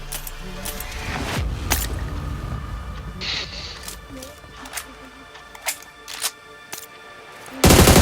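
PUBG Mobile gunfire crackles in sporadic single shots and short bursts, with voices talking between them and a loud blast at the end.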